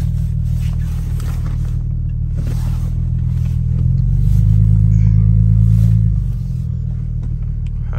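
Mercedes W210 engine on a late-night drive, a steady loud low rumble from inside the cabin that rises in a brief rev midway before settling back to an even drone.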